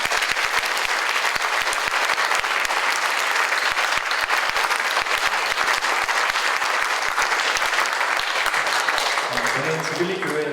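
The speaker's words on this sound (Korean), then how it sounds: "잠시 일어나 주시면 좀 박수 한번 쳐주시면 좋을 것 같습니다" Steady, sustained applause from a large church congregation at a pastor's ordination service fills the whole stretch, dense and even, tapering slightly at the very end.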